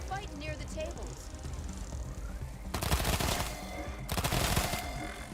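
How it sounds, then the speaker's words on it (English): Shotgun blasts and gunfire in the video game Wasteland 3: two loud, dense bursts of rapid shots, each lasting over a second, following a quieter stretch of game sounds and music. "And they miss us with both shotgun blasts."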